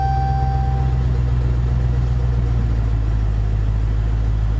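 A 2018 Dodge Challenger 392 HEMI Scat Pack Shaker idles with a steady, deep, loud rumble, low and constant throughout with no revving.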